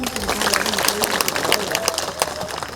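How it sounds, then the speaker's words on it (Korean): Applause from the audience at the opening ceremony of a neighborhood residents' community concert, with dense, sustained clapping running steadily throughout under a faint background voice. "큰 박수 부탁드리겠습니다"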